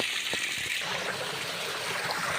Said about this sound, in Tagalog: malakas na lang po ang tubig